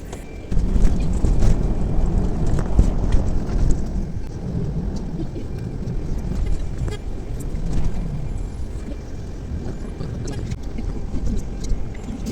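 A city bus in wintry Ankara gives off a constant, fairly loud rumble of engine and road noise that carries on steadily throughout.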